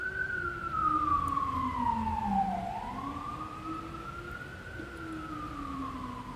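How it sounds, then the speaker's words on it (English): A wailing emergency siren sweeps down and back up in pitch, fairly distant, with road traffic rumble underneath. "sorry for the sirens"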